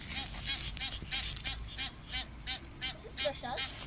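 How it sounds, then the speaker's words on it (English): Canada geese honk repeatedly in a steady rhythm, a series of short nasal calls at moderate distance, set against outdoor background noise in a sightseeing spot in Wiesbaden. "Canada goose"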